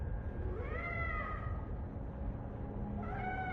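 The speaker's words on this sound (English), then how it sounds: "There's a cat at my door." A cat meows at a door in the Life is Strange video game, giving two drawn-out meows, one early and one near the end, fairly close but soft over a low background hum.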